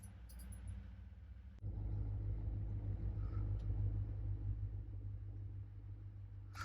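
A 2007 Chevrolet Suburban V8 with its AFM system deleted idles steadily after cranking, a low even rumble that jumps up suddenly as it catches and then holds smooth and close with no ticking.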